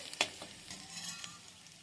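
Jackfruit chop filling frying in a pan gives a soft, steady sizzle with light stirring scrapes and a brief sharp clatter early on.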